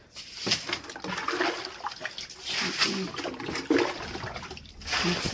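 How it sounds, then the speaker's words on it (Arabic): Water is thrown and splashed to rinse window shutters, heard as repeated splattering bursts and trickles, fairly close, with a voice talking over it. "هنبدا بقى ايه نرمي ميه كده"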